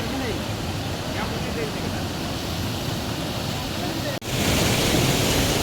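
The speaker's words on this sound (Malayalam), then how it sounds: "ഇത് ഡാമിന്റെ വെള്ളമല്ല പൊന്മുടി മലനിരകൾക്കിടയിലൂടെ ഒഴുകി വരുന്ന നല്ല ശുദ്ധമായ വെള്ളമാണ്" Clean stream water flowing down from the Ponmudi hills, a steady broadband rush of running water that fills the scene close to the microphone, briefly cut off near the end before resuming.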